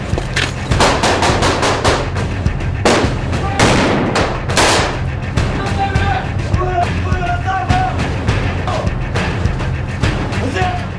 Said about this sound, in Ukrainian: Раптом з вікна лунає кулеметна черга